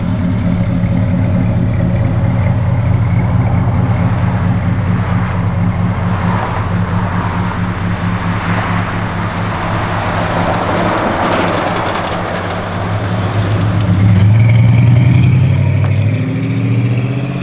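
A 1983 Oldsmobile Hurst/Olds V8 runs at a steady idle, a loud, continuous low rumble close by that swells briefly near the end as the engine is revved.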